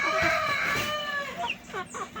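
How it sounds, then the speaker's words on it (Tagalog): A chicken clucks and squawks close by in a short burst, with another faint bird call behind it. "Dito na naman ako sa aking mga manok."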